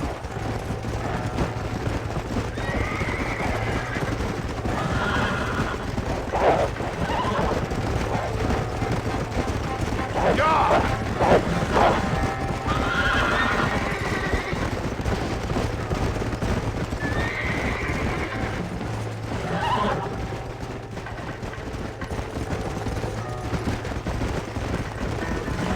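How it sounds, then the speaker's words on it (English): Horses in the Red Dead Redemption video game neigh and whinny several times over a steady clip-clop of hooves and a constant low ambient bed, with distant gunfire-like bursts mixed in. "We'll leave the horses here and climb the rest of the way."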